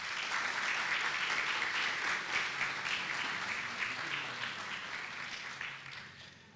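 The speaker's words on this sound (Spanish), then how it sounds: "Señoras y señores, recibamos con un fuerte aplauso a nuestro ministro Pavel Isa Contreras." An audience gives a strong round of applause to welcome an economy minister at a provincial event, with thick, sustained clapping that holds steady at first and then gradually thins and fades toward the end.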